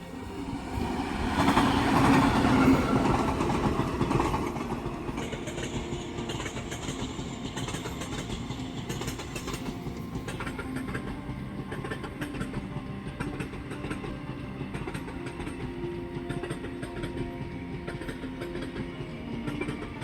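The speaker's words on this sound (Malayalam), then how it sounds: "അപ്പുറത്തൂടുള്ള ട്രാക്കിൽ കൂടിയാണ് ആ ട്രെയിൻ വരുന്നത്" A special rake train passes at speed on the far track at Nikathil Road, Kochi, a loud rushing roar swelling at first, then a long steady rumble with rhythmic wheel clatter.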